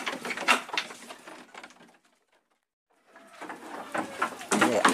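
A female dove, offspring of Panglima Kumbang, coos in close, repeated bursts, falls silent for about a second, then resumes cooing more loudly.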